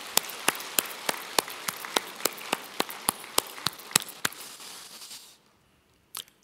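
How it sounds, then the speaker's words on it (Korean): A church congregation at Sunday worship claps together in a steady, forceful rhythm, about a dozen and a half sharp, even beats ringing over a roomy wash, then breaks off into near silence before one last stray clap. "감사와 존귀와 영광의 박수부터 한번 힘있게 합시다"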